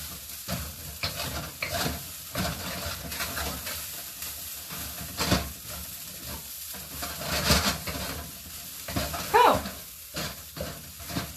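Ginger stir-fries in a pan for fried rice, a constant sizzle broken by repeated scraping and stirring strokes, close and moderate in level, with no talking.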